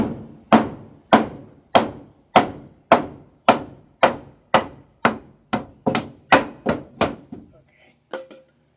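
Sharp, evenly spaced hammer blows strike wood, about fourteen knocks in a steady rhythm, close and loud, with a faint tap at the end.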